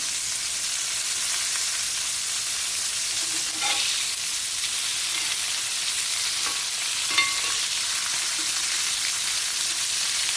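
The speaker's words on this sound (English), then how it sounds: "This still is residual heat, so these burgers are still cooking" Burgers cooking on a grill over residual heat after sitting over the flame, heard as a steady, even hiss of sizzling that carries on throughout, with a few faint clicks and no talking.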